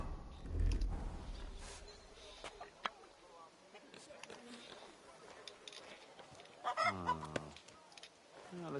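Hens in Kingdom Come Deliverance 2 cluck and honk in short bursts near a farmyard, mixed under a man's speech and ambient game sounds.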